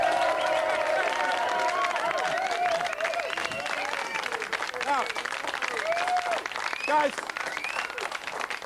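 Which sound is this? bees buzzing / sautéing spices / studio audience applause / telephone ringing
studio audience applause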